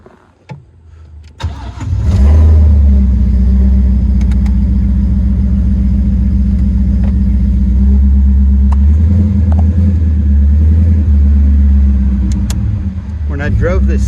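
A 1933 Ford Factory Five roadster with a Coyote V8 and five-speed fires up and settles into a loud, deep, throbbing idle close by, with slight revs near the end; a voice speaks briefly over it.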